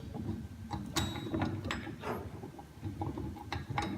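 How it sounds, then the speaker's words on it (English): A stainless steel bolt being screwed into an LED light bar bracket, heard as faint intermittent metallic clicks, scrapes and ratcheting taps spread over a few seconds, close to the microphone. "Your standard bolt that screws into your light bar, you're going to screw it in like this."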